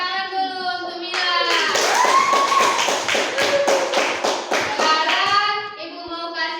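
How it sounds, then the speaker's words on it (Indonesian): A burst of clapping from many small hands of elementary school children in a classroom, loud and close, rising to a dense patter and tapering off after several seconds. "Tepuk tangan dulu untuk Mila."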